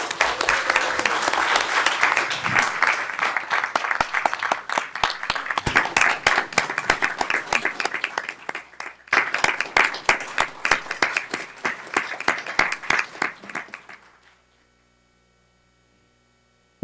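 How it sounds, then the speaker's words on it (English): An audience at a school district board meeting gives sustained applause, dense clapping that runs for about fourteen seconds, then breaks off abruptly into silence. "I just would like for us to give her a big round of applause and honor her"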